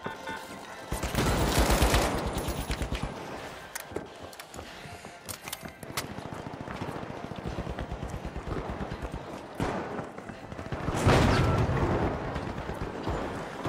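Rapid bursts of automated turret gunfire from the video game The Finals crackle in dense, repeated volleys, with fuller surges near the start and again near the end amid the game's ongoing noise.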